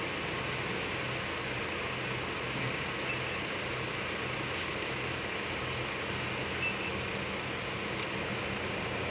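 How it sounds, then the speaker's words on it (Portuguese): Air conditioning fan of a Jeep Compass running at its minimum setting, a steady broadband whoosh that stays even and close throughout, with no talk. "Põe o ventilador de novo no mínimo."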